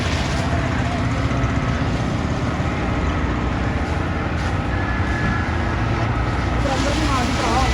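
A fire brigade hose blasting water at high pressure onto a burning wheat field makes a loud, steady broadband roar that runs without a break, with pump engine rumble underneath and no pauses.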